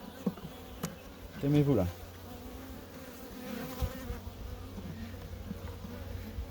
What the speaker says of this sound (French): Donc ça c'est encore un tout petit essaim